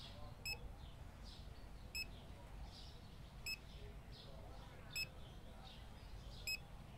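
Short electronic checkout scanner beeps from the supermarket management game Supermarket Simulator, repeating at roughly even intervals over a low background hum, small and distinct.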